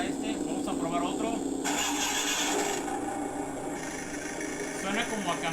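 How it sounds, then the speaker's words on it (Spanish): A sound module in a Kyosho Alpine GT4 RC car plays a diesel, truck-like engine start and idle, a rough mid-pitched churning under a person talking nearby. "Suena como a camión. No le queda a este modelo."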